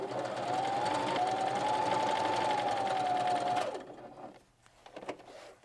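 A Viking 118 sewing machine runs steadily while stitching a stretch seam, a continuous close whirring hum at a faster pace for about three and a half seconds before stopping, followed by faint handling noises.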